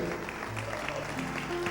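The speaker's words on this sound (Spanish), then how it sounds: "Dele un aplauso al Señor si así lo desea." Steady applause at a church service, a dense continuous patter of many hands clapping at moderate level throughout, with faint tones from music underneath.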